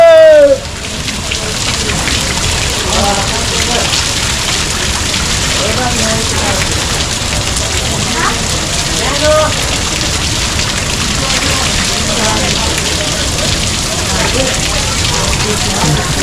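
Water splashing at a Himalayan hot spring, a loud continuous rushing spatter like heavy rain, with people talking faintly underneath.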